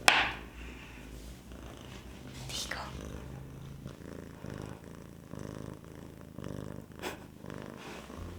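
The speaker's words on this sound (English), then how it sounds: "Can you hear her purr? Because she's purring so loudly." A cat purrs loudly and steadily while held close in someone's arms, a soft rhythmic rumbling that continues through the whole stretch after a brief rustle at the start.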